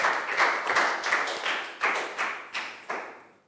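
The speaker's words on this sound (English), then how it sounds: "High five and a big round of applause for Pat" A small group claps in a loose, uneven patter, with a few louder distinct claps, no voices.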